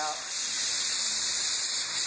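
A Harbor Freight paint spray gun sprays a Dodge Ram hood, giving a steady, close, high airy hiss that runs unbroken for about two seconds.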